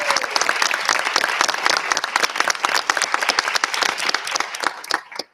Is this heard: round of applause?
yes